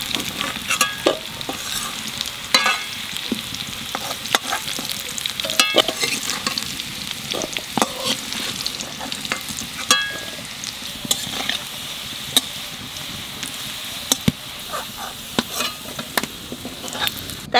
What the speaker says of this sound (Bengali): আলুটা আর একটু ভেজে নেই।